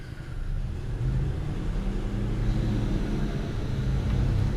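A 2005 GM car is running in drive with only the driver's side wheel spinning, a steady low rumbling drone with a faint whine and no pauses.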